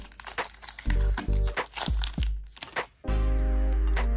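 A Pokemon Celebrations card pack crinkles and tears open in a rapid burst of crackly foil rustles, then cards slide out with more crumpling, all close and fairly loud.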